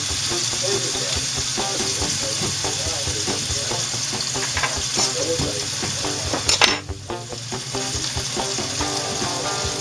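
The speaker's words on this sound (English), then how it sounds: "first thing we want to do is sort of sear our pork tenderloin" Pork tenderloin searing in a pan gives a loud, steady sizzle, with someone talking over it and a brief clatter partway through.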